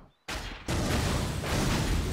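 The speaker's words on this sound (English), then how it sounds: "Explosion." A loud explosion in a Sonic the Hedgehog (2006) cutscene bursts in suddenly and holds as a dense, sustained roar with a second surge partway through, continuing without letup.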